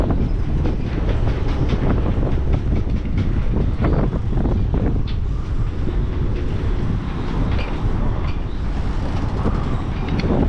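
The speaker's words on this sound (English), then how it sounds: "Good gust." Steady, loud roar of storm wind buffeting the microphone, a continuous rumbling rush with no talking, during Hurricane Ian.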